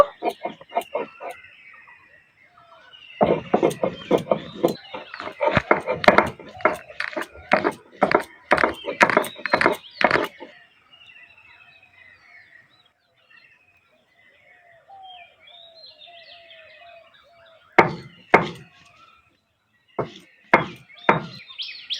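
Bottle gourd leaves are ground dry on a stone without water, giving loud rhythmic knocking and scraping strokes in a fast run. The grinding pauses, then resumes with a few spaced hits near the end.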